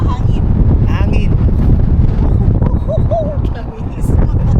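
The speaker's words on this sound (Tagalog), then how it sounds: "Mahangin. hangin." Strong wind outside the Titanic Museum in Belfast buffets the microphone in a steady, roaring rumble throughout, with a few faint chirps and distant sounds beneath it.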